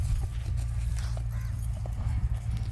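A horse trotting during a first day of training, hooves clip-clopping in a quick, even rhythm close by, with no talk over the steps.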